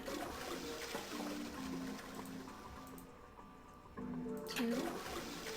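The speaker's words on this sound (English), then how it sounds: "And we flush this toilet 4 times." A toilet flush in the puzzle game Zero Escape: 999 gives a steady rushing, gurgling water sound with faint tonal hums, then a fresh surge of water near the end, quiet and under light background noise.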